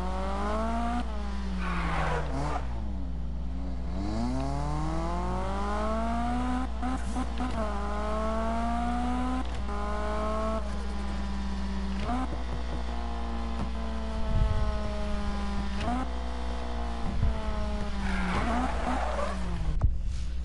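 A race car screams through a video game race, engine pitch rising and falling repeatedly through gear changes and turns, with loud tire squeals and skids layered over a steady low hum.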